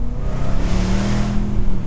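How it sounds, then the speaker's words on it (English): Jaguar F-Type SVR with its V8 engine runs loud and close, a deep throbbing rumble that swells slightly as it revs, heard alone without talk. "you just cannot beat a Jaguar V8 engine"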